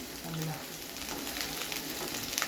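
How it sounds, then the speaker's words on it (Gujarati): Potatoes sizzle and fry in a hot kadai as they are tossed, a steady close crackle with a few soft stirring knocks and no talking. "આ બટાકાને તમારે આ રીતે કઢાઈમાં આ રીતે ટોસ કરવાના છે।"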